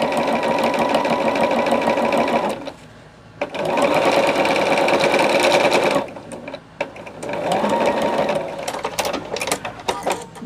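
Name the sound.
sewing machine stitching fabric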